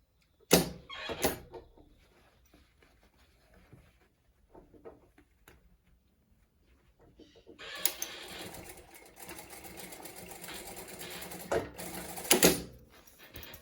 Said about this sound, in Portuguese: E aí eu vou costurar nesse vinco aqui.